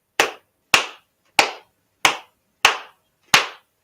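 Six sharp, dry slaps from a dry erase board eraser striking someone during a flogging session, evenly spaced about every half second, close and crisp with quick decays and no talk.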